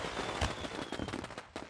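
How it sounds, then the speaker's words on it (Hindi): Firecrackers going off outside during wedding festivities, a faint, distant, irregular series of pops and crackles layered over a muffled background. "ये तो पटाखों की आवाज है।"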